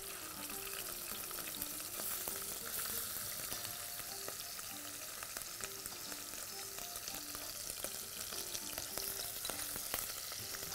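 Garlic frying in a hot pot, giving a steady, faint sizzle throughout with light clinks over it and no speech.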